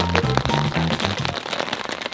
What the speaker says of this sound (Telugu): వాన పడుతుంది నీకు ప్లస్ పాయింట్ అయింది